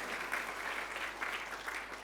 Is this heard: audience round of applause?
yes